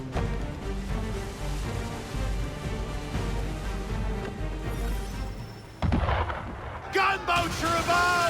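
Gunboat cannon fire in the video game Assassin's Creed 3 during a naval sequence, heavy booming blasts over dense game noise and music, with a sharp louder burst near the end and voices shouting.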